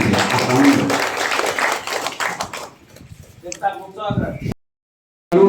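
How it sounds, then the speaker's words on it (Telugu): Applause from the audience at a felicitation ceremony in a Jana Sena Party office in Paderu, a dense burst of clapping that fades out after a few seconds, followed by brief talk and a short silence. "క్లాప్స్ అంటే క్లాప్స్ కొట్టారు"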